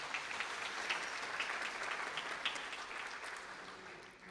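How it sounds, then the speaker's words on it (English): Sustained applause from the audience at a university vice-chancellor installation ceremony after a song performance, broad continuous clapping at moderate distance, steady throughout with a few sharper claps standing out. "Another round of applause, please."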